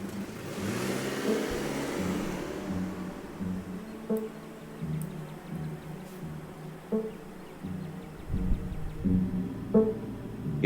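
An old BMW car in a video game drives along an empty road, giving a steady, moderately quiet engine drone with faint rising revs and a few small clicks and bumps throughout.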